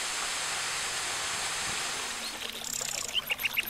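Cumberland Falls pours 44 feet into the Cumberland River as a steady, broad rushing roar. Faint chirps come through near the end.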